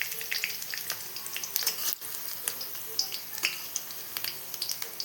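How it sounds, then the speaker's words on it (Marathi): Cumin and mustard seeds crackle and pop in hot oil with a steady close sizzle, sharp little snaps scattered through the frying hiss. "जेवढे जिरे मोहरी तडकून दिले तेवढे छान लागते."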